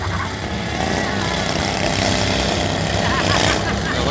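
Racing lawn mowers at a county fair demolition derby in Farmington, Minnesota roar as a continuous loud engine drone, with crowd noise and a voice mixed in.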